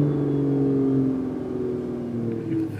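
A 2020 Mercedes E53 AMG engine in sport mode hums and whirs at a sustained pitch, close and continuous, with no talking.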